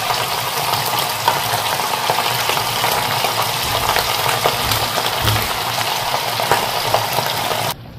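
Pork frying in hot oil in a pan, a dense, loud, steady crackling sizzle with scattered sharper pops, cutting off abruptly at the end.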